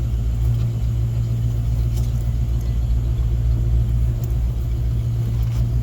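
A restored 1966 Ford Mustang convertible with a three-speed C4 automatic drives along, its steady low engine rumble and road noise continuous and fairly loud throughout, with no talk.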